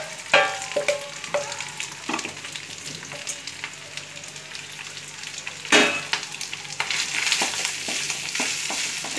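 Rice tips into a pan and is stir-fried over low heat with vegetables for Bengali-style fried rice, steady sizzling punctuated by scraping, clattering spatula strokes, close and alone.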